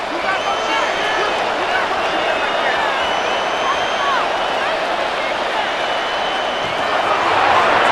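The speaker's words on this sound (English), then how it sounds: "What about this crowd getting even louder before 3rd and 10?" Simulated stadium crowd in Madden NFL 26, 49ers versus Dolphins, a dense constant roar swelling slightly louder toward the end ahead of a third down, filling the background evenly.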